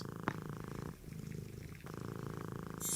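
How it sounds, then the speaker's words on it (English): A happy cat named Crash Bandicoot purring close by in a steady, continuous rhythmic rumble, with one brief click near the start and a faint hiss at the end. "Crash Bandicoot is purring."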